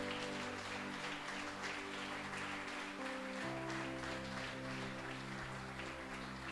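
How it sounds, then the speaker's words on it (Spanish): A church congregation claps in a faint, continuous wash of applause, steady and even from start to finish. "Dele un fuerte aplauso al Señor."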